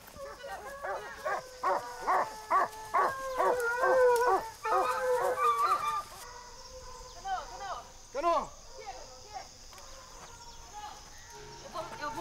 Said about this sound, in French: Les chiens ont retrouvé la piste de Lenda.